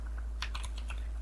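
A few quick keystrokes are tapped on a computer keyboard, faint and close, over a steady low hum, with no talking.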